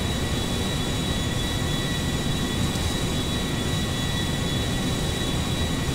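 Airbus A350 airliner flying in GTA 5, a steady, loud, continuous jet engine roar with broadband rumble and a faint high whine that holds level throughout without breaks.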